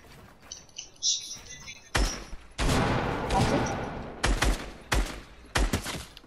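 Video game gunfire during a 1v1 match: several loud, close bursts of rapid shots separated by short pauses, with faint tones sounding before the first volley.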